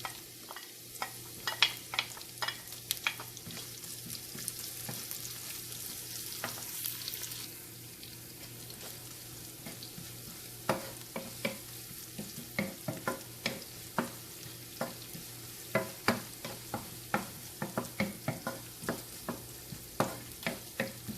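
Shallots, green chilies and curry leaves fry in a pan with a soft, steady sizzle under repeated sharp taps and scrapes of a stirring spoon, fairly quiet overall.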